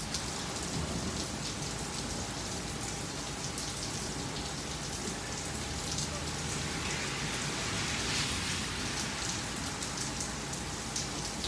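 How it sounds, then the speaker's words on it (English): Real rain pouring steadily outside during a rain delay, a dense continuous hiss of drops on surfaces that stays even and fairly loud throughout with no pauses. "But that's some real world rain for you."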